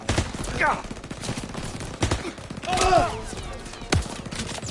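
Gunfire in the war game Call of Duty WWII, with repeated sharp shots and rapid bursts scattered through a noisy battle and voices shouting in between.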